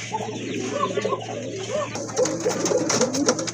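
Pigeons offered for sale coo in soft, rolling phrases that repeat steadily through the clip, close by, over a light background hum.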